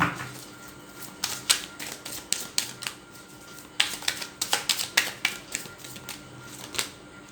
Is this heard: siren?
no